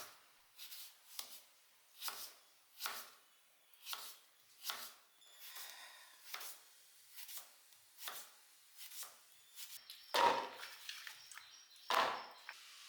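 A knife chops pumpkin into thin pieces for a Kerala-style curry, giving about fifteen steady, close, crisp cuts against a board, with a couple of louder thuds near the end and no talking.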